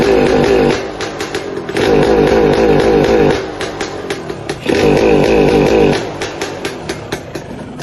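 A motorcycle engine runs after starting, its revs rising and falling in repeated surges between a rough, rattly idle, loud and close with no talking.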